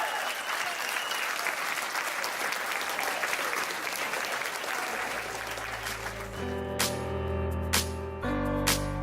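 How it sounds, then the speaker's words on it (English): A wedding reception audience applauds the newlywed couple in dense, sustained clapping that fades as music with low bass tones comes in. "please clap for the newlywed bride and groom, Madhu and Ben."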